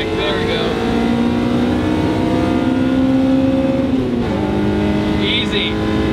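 A Honda Civic fitted with a K20 engine revs hard and climbs steadily in pitch, then drops sharply near the end as it shifts. The engine is loud and close throughout.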